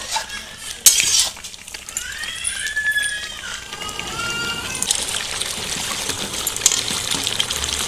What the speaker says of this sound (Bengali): এবার আমি জল দেব এখানে আমি আগে থেকে গরম জল করে রেখেছি